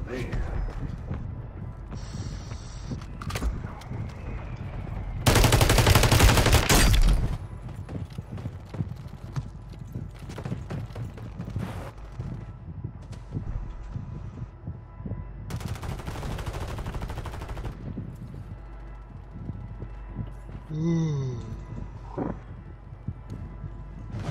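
Video game shooter gunfire comes as scattered, fairly quiet shots over a busy, noisy soundscape, with two longer, louder bursts of noise partway through.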